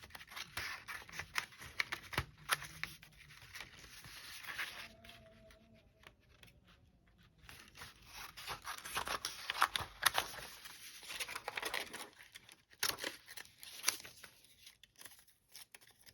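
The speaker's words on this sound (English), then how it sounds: "now I need to cut some more." Scissors snipping through glossy magazine pages, a run of short crisp cuts and paper rustles close by, with quieter pauses between bursts of cutting.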